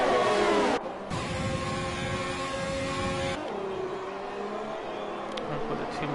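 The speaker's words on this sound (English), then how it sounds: "We've got the two McLarens going side by side into the chicane." F1 racing cars from the F1 2020 game, race at Vietnam or Bahrain, engines whining steadily at high revs with shifting tones as cars run side by side, loud and close, no speech.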